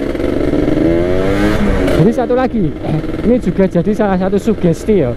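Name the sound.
motorcycle engine revving, open air filter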